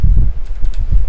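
Rapid keystrokes on a computer keyboard, close and loud, with a steady irregular patter of clicks and no talking.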